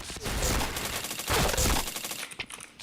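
Rapid automatic gunfire from the online shooter Point Blank, a dense, continuous burst of close shots rattling almost without pause before tapering off near the end.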